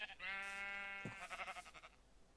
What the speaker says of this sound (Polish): Jaka śmieszna krowa.